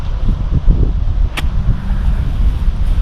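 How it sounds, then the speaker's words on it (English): Wind blows across an open golf course at Oak Harbor Golf Club, rumbling and buffeting loudly against the microphone in low, gusty waves, with one brief sharp hiss partway through. "Wind's off the left."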